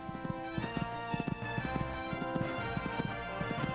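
Galloping horse hooves in a horse-racing video game, a steady rapid clip-clop rhythm of hoofbeats running continuously at moderate loudness, with no talk over it.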